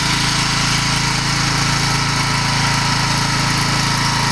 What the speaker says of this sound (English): Just using a walk-behind floor scrubber